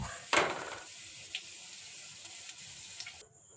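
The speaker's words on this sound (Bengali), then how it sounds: "এবার রসুন আর কাঁচা লঙ্কাটা পনেরো থেকে কুড়ি সেকেন্ড ভেজে নিয়ে তুলে নেব" Chopped garlic and green chilies hit hot oil with a sharp burst, then settle into a steady, close, bright sizzle with faint scattered crackles and no talking.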